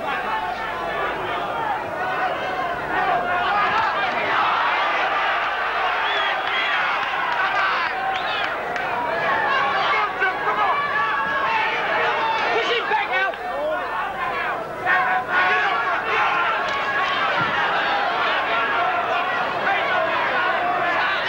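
Dense, steady crowd roar from spectators at the Alan Minter vs Vito Antuofermo boxing match, with chatter and bursts of cheering rising throughout.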